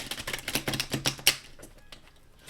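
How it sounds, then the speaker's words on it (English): Large, bulky tarot cards being shuffled by hand, a quick run of crisp riffling clicks and slaps that then fades into softer, sparser handling sounds. "I just would like to shuffle one more time"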